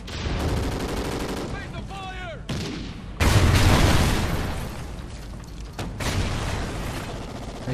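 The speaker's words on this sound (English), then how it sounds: "I can hear the sniper." Sniper rifle shots in the Call of Duty Ghosts shooter game, heard as loud cracking blasts with booming tails over dense battle noise, one heavy report standing out midway and another near the end.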